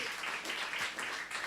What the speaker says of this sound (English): Please applause for him too.